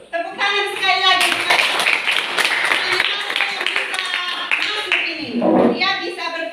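A class of children claps hands together in a sustained burst of applause lasting several seconds, with young voices and chatter mixed in.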